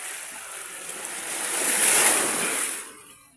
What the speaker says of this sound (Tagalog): Grabe, lalaki ng alon mandaragat.